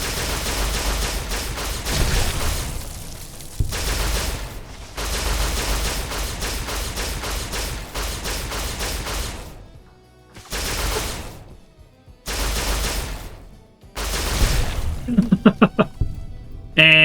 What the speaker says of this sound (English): Let's pull out our laser rifle.